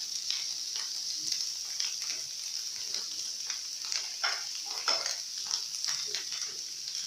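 Minced beef frying and being stirred in a pot, a steady close sizzle with irregular scraping taps of the spoon throughout, no talking.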